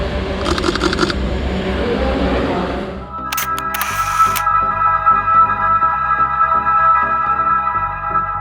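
A few quick mechanical clicks, then a rapid burst of crisp shutter snaps close to the microphone, followed by a steady hum.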